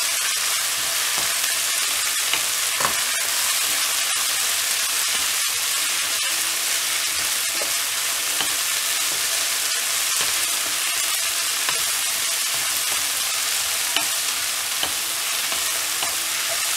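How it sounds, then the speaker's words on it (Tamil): Chopped coriander fries in oil for a coriander chutney, giving a steady close sizzle throughout with occasional soft stirring scrapes and no talking. "கொத்தமல்லி ஆட் பண்ணிவிட்டு இதை நல்லா எண்ணெயில் ஃப்ரை பண்ணிடலாம்"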